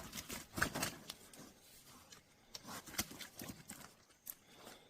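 Irregular thumps, scuffs and rattles as a wild boar thrashes and struggles in a capture trap nearby, bursts coming in uneven clusters.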